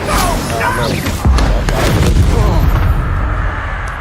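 An Incendio fire spell blasting in Hogwarts Legacy, a loud booming, roaring burst of fire that rumbles for a few seconds amid other spell effects, with a voice talking at the start.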